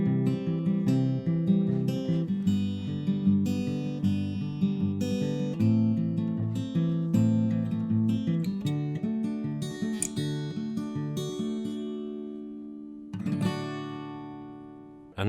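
Fingerpicked acoustic guitar pattern over G, the same picking as before with only the bass notes changed, played as steady rolling arpeggios with clear plucked attacks, alone and close, ending with a final strum.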